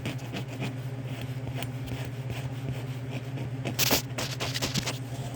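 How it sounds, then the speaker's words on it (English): A rough-ported Ford 1.6 CVH cylinder head port surface being rubbed, giving a steady close sandpaper-like scraping rasp with a louder burst near the end. "Yeah, this one sounds like sandpaper."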